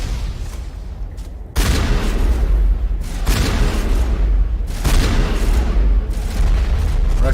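Squadmates fire guns in Mass Effect, loud sustained volleys and booming blasts that pile up into a dense roar with short gaps between heavy bursts.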